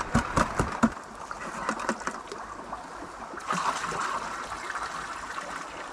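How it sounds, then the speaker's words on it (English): A bucket of creek gravel is panned for gold in water, close sloshing and swirling splashes with gravel rattling at the start, then a steadier wash of moving water, no talk. "I will pan this last bucket."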